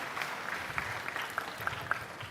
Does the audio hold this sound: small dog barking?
no